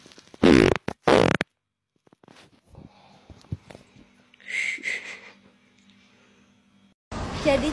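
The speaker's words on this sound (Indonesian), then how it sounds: "Mau kentut lagi?" Several loud, close farts from a person burst out in quick succession at the start, followed by quieter rustling and murmuring, and then another loud blast at the end.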